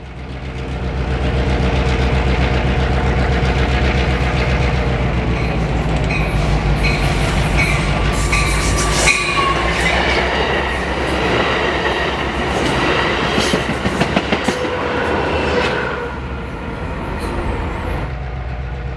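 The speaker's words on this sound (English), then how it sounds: "Amtrak's Cascade Service number 503 picks up speed as it departs Albany for Eugene." Amtrak Cascades train 503 gathers speed departing Albany, Oregon, a loud close rumble of engine and rolling wheels with rhythmic clickety-clack over rail joints and occasional squeals, easing slightly toward the end.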